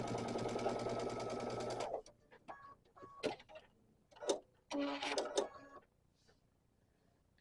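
A sewing machine stitches a quilt block seam, running steadily for about two seconds and then stopping, followed by quiet scattered clicks and rustles of fabric being handled.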